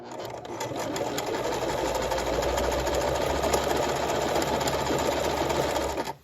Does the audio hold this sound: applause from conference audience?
no